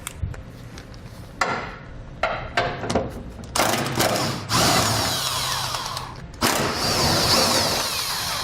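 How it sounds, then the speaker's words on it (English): A ratchet with a 21mm socket works on truck hitch bolts while fitting a Curt trailer hitch receiver on a 2016 Ram 1500, giving close bursts of clicking and whirring that grow louder and longer toward the end. "We're going to do that with a 21mm socket."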